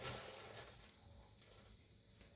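Chana dal dropped into hot oil for a tempering, giving a steady, fairly quiet frying sizzle that holds through the whole stretch, with a couple of small pops and no talking.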